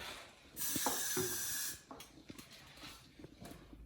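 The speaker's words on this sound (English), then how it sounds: "all you have to do really is spray it on there" A single steady hiss of an aerosol can spraying clear sealant onto a table for about a second, followed by light clicks and handling noises.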